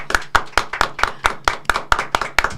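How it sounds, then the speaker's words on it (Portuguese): A single pair of hands claps in a steady, even rhythm, about a dozen sharp claps, close and clear with no talk, welcoming a guest at an interview recording. "Vamos dar umas palmas aqui,"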